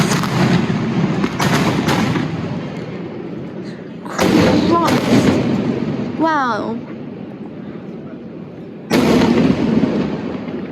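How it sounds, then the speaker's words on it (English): Loud fireworks explode over an Italian boatyard in separate booming bursts, one followed by a rising whistle and crackle; a person briefly exclaims between the blasts. "Look at the fireworks!"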